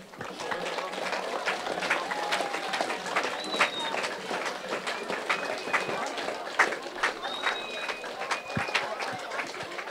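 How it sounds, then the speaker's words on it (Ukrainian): Crowd applause in a school courtyard during a last-bell ceremony as graduates walk in procession, steady sustained clapping throughout with crowd noise and occasional birdsong mixed in. "Вітаємо їх оплесками!"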